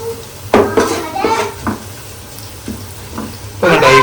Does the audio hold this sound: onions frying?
yes